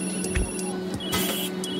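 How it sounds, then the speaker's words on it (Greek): A telephone rings in the Food Truck Simulator video game, with short repeated electronic trills over a steady background hum and brief clicks, and no talking. "Ποιος είναι, ρε παιδιά, με το τηλέφωνο? Σηκώστε το, σας παρακαλώ λίγο."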